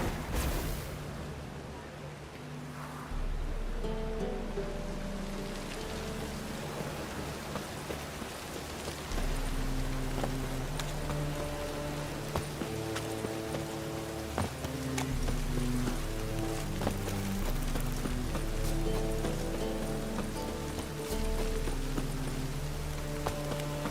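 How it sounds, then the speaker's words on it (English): Steady rain falls in The Witcher 3, a broadband hiss across the whole clip, joined by the rhythmic clip-clop of horse hooves and low in-game music tones; no one speaks. "And it's raining again."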